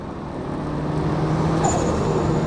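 Turbocharged Toyota GR86/Subaru BRZ engine with an HKS blow-off valve, a steady road drone from inside the car with a brief high whoosh of the valve venting near the end.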